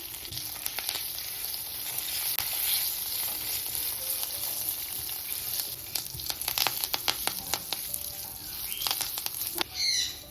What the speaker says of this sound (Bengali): আর কারি পাতা ফোড়ন দিয়ে দিলাম। এবারে লো ফ্লেমে একটু ভেজে নেব।